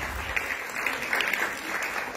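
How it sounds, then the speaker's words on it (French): A short burst of steady applause from a crowd, clapping evenly and fairly close for a couple of seconds. "on peut applaudir les danses, vraiment, et les costumes qui allaient avec"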